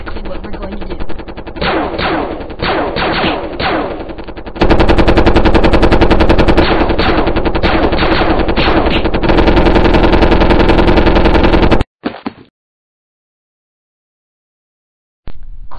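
Rapid machine-gun and rifle fire in a video game battle, loud and nearly continuous bursts that intensify partway through and then cut off abruptly into silence.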